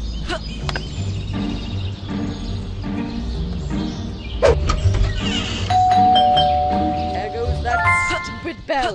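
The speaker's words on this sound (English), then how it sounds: "Bell again." Doorbell ringing in the video game Scary Teacher 3D, chiming tones near the end over game background sounds and a voice talking.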